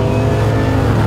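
The 600 hp V8 of a Wildcat Defender 110 rumbles loud and close through its exhaust, a deep, steady burble for a brief moment with no talk.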